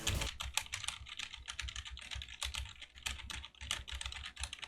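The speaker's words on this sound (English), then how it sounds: "this is what the keyboard clicks sound like" Rapid, steady keyboard typing, a dense run of sharp clicks and clacks close to the microphone with no talking.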